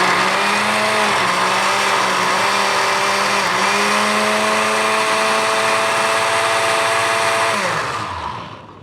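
Blender grinding fresh salsa of peppers and salt in a Mexican restaurant kitchen in Toronto, a loud steady motor whine with shifting pitch running for several seconds before spinning down.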